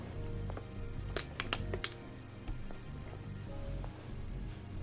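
Rain falling across a ruined colossal city in the video game Stellar Blade, a steady soft wash with a few sharper transient hits and low rumble underneath, no talk.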